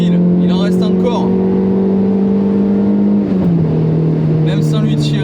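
A Peugeot 106 Rallye engine pulls hard at high revs at a racing driving school, a loud, steady droning tone that dips slightly in pitch partway through and then keeps pulling.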